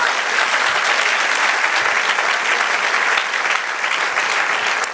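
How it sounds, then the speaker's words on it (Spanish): A church congregation clapping loudly and continuously during a Spanish-language sermon, dense steady applause filling the room for several seconds. "Denle un aplauso al Señor."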